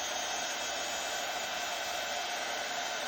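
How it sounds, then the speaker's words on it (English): A heat gun blows hot air to dry ink on a handmade card, a steady loud whooshing roar that holds unbroken throughout. "just with my heat gun."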